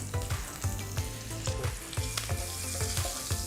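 Curry leaves crackle and sizzle in hot tempering oil with garlic on a switched-off stove, an intense close frying hiss with rapid rhythmic spitting pops throughout.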